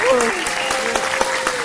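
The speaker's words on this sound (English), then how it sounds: "Come on, let's give him a round of applause." Audience applause during a standing ovation for Lt Col George Hardy at a Tuskegee Airmen Day 2024 address, a brief burst of clapping under a speaking voice.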